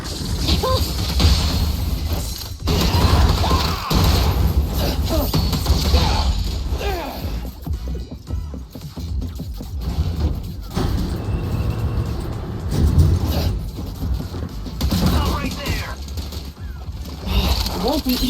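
Sustained gunfire during a combat scene in the video game Zenless Zone Zero, dense crashing and mechanical impacts running continuously and loudly throughout, with voices speaking over the action.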